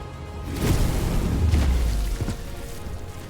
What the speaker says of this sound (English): have the Phoenix use his massive AoE explosion